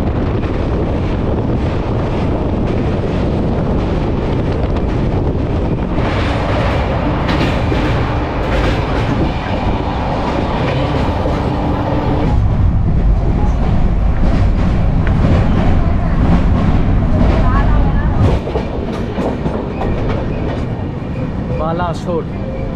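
Interior of the 12821 Howrah–Puri Dhauli Express running near Balasore, with a loud, continuous rumble and rattle of the coaches, mixed with wind buffeting across the whole stretch.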